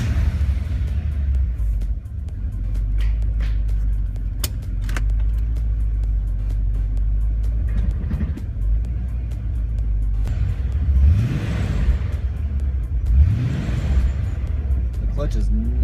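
BMW E36 M3 with a swapped-in Ford 5.0 V8 driving on its first outing, a deep, rumbling idle and low cruise punctuated by throttle blips and rising revs, heard from inside the car under occasional talking.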